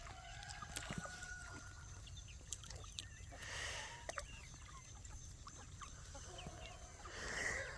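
Indio Gigante chickens cluck softly at a distance, with scattered short calls over a faint, steady background and no talking.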